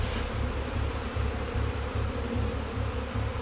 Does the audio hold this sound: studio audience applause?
no